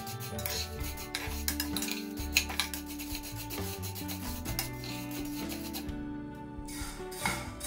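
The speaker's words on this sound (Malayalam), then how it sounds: "കുറച്ചു നേരം കൂടി നമുക്കിതൊന്ന് വറുത്തെടുക്കാം." Vermicelli roasting in a pan while being stirred, giving continuous close scraping and rubbing against the metal with clinks of the utensil, steady throughout with a brief lull near the end.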